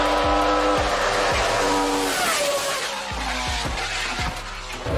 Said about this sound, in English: how do you make your V8 sound like that?